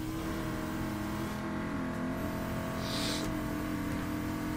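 Racing car engine in Forza 6 droning steadily at high revs, a continuous loud hum with a brief tonal change near the middle, no voices.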